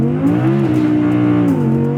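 An Audi R8 Spyder's high-revving 5.2 litre V10 engine rises in pitch, holds a strong steady revving note, then eases off slightly, loud and close with no voices.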